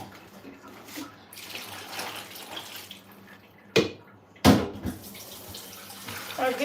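Water runs steadily from a tap while nuts are washed, a continuous splashing hiss with a couple of sharper knocks and clatters partway through.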